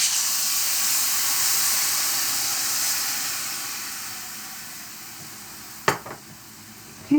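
Spicy pickle brine poured into a hot pan with browned chicken fond sizzles and hisses loudly, slowly fading, then a sharp scrape and clatter near the end as cooking resumes.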